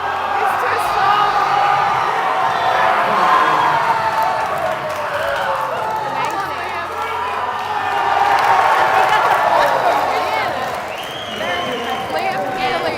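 A crowd at a bouldering competition cheers and whoops in sustained waves, with some clapping and a commentator's voice talking over the noise, loud and continuous.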